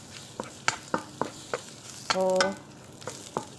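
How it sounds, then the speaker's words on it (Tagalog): Garlic and onions sizzling in hot oil in a pan and stirred for adobo, crackling sharply in irregular bursts with a short louder scrape of the spatula midway. "halu-haluin natin hanggang mahilo"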